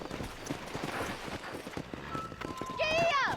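Horse hooves clip-clopping at a run in the Red Dead Redemption video game, a rhythmic thudding under game music and a rising whistled melody, with no talk over it.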